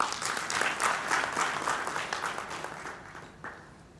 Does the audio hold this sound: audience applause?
yes